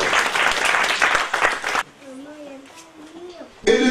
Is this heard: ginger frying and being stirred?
no